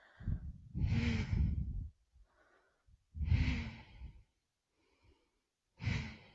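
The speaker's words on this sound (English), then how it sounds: "that releasing exhale" Slow, releasing exhales, three audible breaths spaced a few seconds apart, close and soft with quiet gaps between them.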